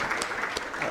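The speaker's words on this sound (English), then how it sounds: "I think you deserve a round of applause" A short burst of audience applause follows a keynote address on philanthropy and climate change: steady, close clapping from a small crowd.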